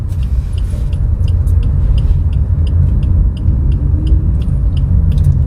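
A Suzuki Ertiga GL with a 1400cc four-cylinder engine pulls in second gear, heard from inside the car. A loud, steady, low engine rumble continues throughout, with no talking.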